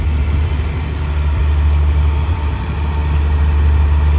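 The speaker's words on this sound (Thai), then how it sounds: "โอเคครับตอนนี้ขบวน 167จอดที่ชานชลาที่หนึ่งแล้วนะครับ" Passenger train 167 stands at platform one of Surat Thani station, a loud, steady low rumble of idling locomotive and carriages filling the scene without a break.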